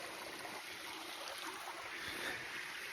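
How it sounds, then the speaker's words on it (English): A mountain waterfall high among the clouds pours in a steady, dense rushing roar, continuous and fairly close, with no voices over it. "Okay, we are up here at this waterfall."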